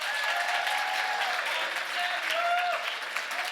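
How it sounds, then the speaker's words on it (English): A young adult forum audience at a festival claps steadily for the audio technicians, a broad wash of applause with faint whoops and cheers rising briefly above it, continuing without pause. "Can we give them a round of applause just for our music?"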